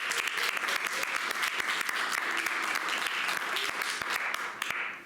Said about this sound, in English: clap now